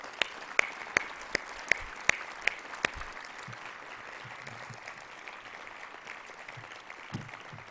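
Sparse, sharp claps ring out near the start of a city council meeting, then thin into a low, scattered patter of a few hands and faint room murmur for the rest of the stretch.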